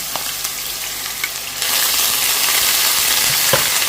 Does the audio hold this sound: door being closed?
no